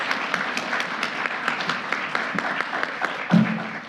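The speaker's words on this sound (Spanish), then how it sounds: "Un aplauso para la ponente, por favor" Applause from an audience at a panel session after a presenter finishes, a steady patter of many hands clapping at moderate level, with a brief low thump near the end.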